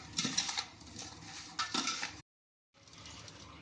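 Spices and oil being stirred through raw mango pickle, giving soft scraping and clinking of a spoon against a bowl in bursts, close and fairly quiet, broken by a brief silent gap.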